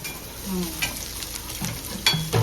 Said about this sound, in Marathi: कांदा भाजतो